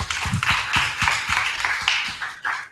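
A workshop audience claps together, a steady bed of dense, close hand claps with a few sharper beats rising above it, lasting under three seconds.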